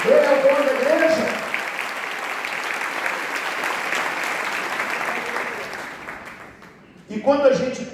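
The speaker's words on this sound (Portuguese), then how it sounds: "você pode aplaudir o nome do Senhor por isso" A church congregation applauds at a ministerial training event, loud sustained clapping that fades toward the end, with a voice speaking at the start and again after the applause dies down.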